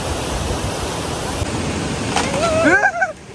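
The Hukratte waterfall roars in a steady, dense rush of falling water, loud and unbroken throughout, with a few brief high chirping whistles near the end.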